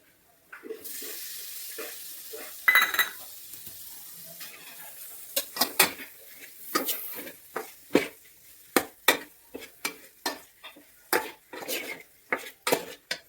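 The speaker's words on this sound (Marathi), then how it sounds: "फायनली लास्टला आपले शिंपले टाकू याच्यामध्ये" Clams tipped into a pan of frying masala with homemade black spice clatter and sizzle, followed by a run of sharp, regular clinks and scrapes as the shells are stirred close up, with no talking.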